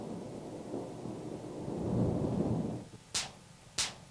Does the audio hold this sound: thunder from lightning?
yes